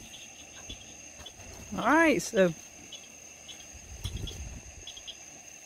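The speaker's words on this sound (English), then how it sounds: "The cricket's still going." Crickets chirping near a pond at night, a thin steady high-pitched trill running faintly throughout. A brief burst of louder warbling calls and a few spoken words sit over it.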